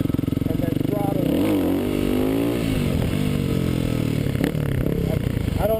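Kawasaki KLX250 dirt bike engine revved hard for a clutch-up wheelie: a loud, close buzzing drone climbs and wavers in pitch as the throttle is worked, with scraping and clatter near the end and someone speaking briefly.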